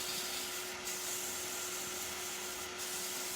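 Sandpaper at 240 grit rubs against a pen blank spinning fast on a lathe, a steady, even hiss over the motor's constant hum, with two brief dips, close and moderately quiet.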